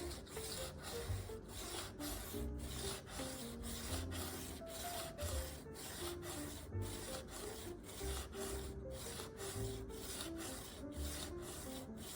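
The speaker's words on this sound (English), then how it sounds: "just put the edge of the chisel onto the stone and have the body be resting on the hacksaw" A chisel edge rubs back and forth on a sharpening stone while being honed, a steady, rhythmic scraping stroke repeated many times up close and fairly quiet, with no talk.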